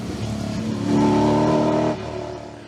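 Volvo TC 1660 race car accelerating hard up a hillclimb course, its engine note rising and swelling loudly mid-clip before dropping back to a steady drone, with no talk.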